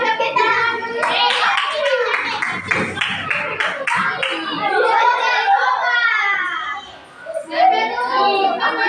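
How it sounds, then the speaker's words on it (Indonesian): A school classroom full of children claps together in a sustained burst of close, loud applause, mixed with excited kids' chatter and voices throughout. "Semua tepuk tangan dulu."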